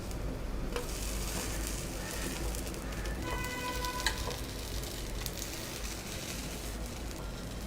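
Uttapam fries in a little oil on a nonstick pan, giving a steady, close sizzle that stays even throughout with light crackles.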